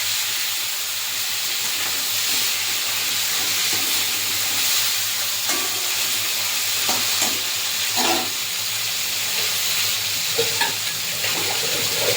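Prawns sizzle in a hot pan for a coconut prawn dish, a steady hiss of frying with scraping stirs and bursts of crackle scattered through, close and without speech.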